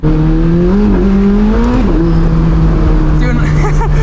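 A McLaren supercar's tires spin and whine over a loud, steady engine drone, the pitch wavering and rising as the wheels slip.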